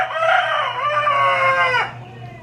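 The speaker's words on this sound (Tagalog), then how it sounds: "tawag naman ng manok" A rooster gives a single loud, close crow lasting about two seconds, with a long drawn-out call that cuts off sharply, then a faint background hum.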